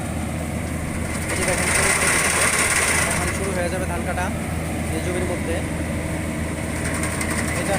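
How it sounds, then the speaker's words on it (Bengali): A modern paddy harvesting machine cutting rice in a field, its engine running steadily and loudly throughout, with speech partly heard over the mechanical drone. "ধান কাটার মেশিন যেটা আসলে আমাদের সহজ করে দিয়েছে কৃষিকে"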